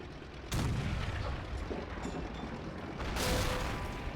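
Tank guns fire in a WWII battle between Shermans and Tigers, two heavy booms a few seconds apart, each rolling into a long loud rumble of combat noise.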